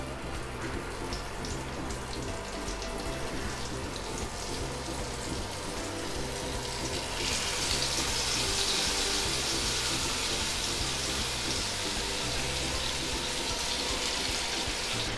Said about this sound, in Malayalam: ഇപ്പോൾ എണ്ണ ചൂടായി വന്നിട്ടുണ്ട്. ഇതിലേക്ക് ഓരോ കൽമാസായിട്ട് വെച്ച് കൊടുക്കാം.